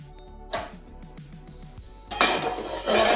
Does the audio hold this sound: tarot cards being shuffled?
no